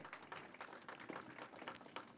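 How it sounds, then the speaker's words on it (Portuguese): A conference audience applauds a healthcare executive introduced on stage, giving a dense, even patter of many hands. The clapping is faint and distant and continues without pause. "Uma salva de palmas, Dr. Frederico Moraes Xavier"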